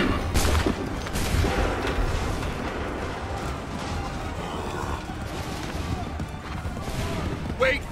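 Musket volleys crack in a Revolutionary War battle at Lexington in Assassin's Creed III, with loud bursts of gunfire over a constant din of battle and shouting voices.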